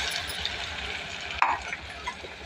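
A paste of onion, coriander, garlic and ginger is stirred in a hot pan for vaghe batat bhaji, with soft scraping under a low sizzle of frying and one sharper clink of the utensil partway through.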